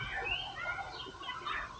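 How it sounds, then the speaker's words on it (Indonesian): Birds chirp and twitter outdoors in a steady, moderately loud stream of short high calls over a low background rumble, with no speech. "Ada burung."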